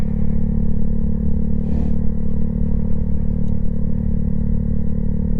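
Honda Grom motorcycle engine drones in a steady, loud low rumble while riding, with a brief clattering burst partway through and no talk.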